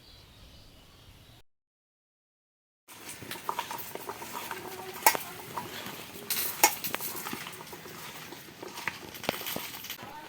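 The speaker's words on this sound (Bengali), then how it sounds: "এক এক করে আমার মা সেগুলিকে বেঁচে থাকা মশলার ভিতরে দিয়ে ভালো করে কিছুটা পরিমাণে আরও নুন দিয়ে মাখিয়ে নেওয়ার চেষ্টা করলো" Potatoes and taro stems are kneaded by hand with leftover spices and extra salt, giving soft squelching, patting and stirring sounds that come in irregular close bursts after a brief silence.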